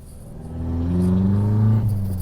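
A Peugeot 308 with a fresh engine remap accelerates on a road test drive, its engine note rising steadily and growing louder, close and alone.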